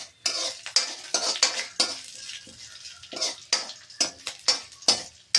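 Curry leaves crackling and sizzling in hot oil for cabbage palya, with a spatula repeatedly scraping and stirring the pan in irregular bursts, loud and close with no talking.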